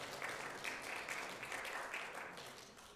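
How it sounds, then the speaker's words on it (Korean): A church congregation applauds steadily for a few seconds during a worship service, a dense patter of many hands clapping at moderate distance. "환영의 박수 부탁드립니다."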